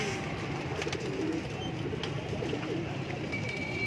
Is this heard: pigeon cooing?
yes